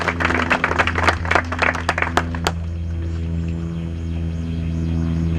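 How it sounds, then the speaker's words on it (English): Scattered clapping from a small gathering at a press conference in the Stockade neighborhood, a few hands tapping unevenly for about two and a half seconds before fading into a steady background hum. "she deserves a really big applause"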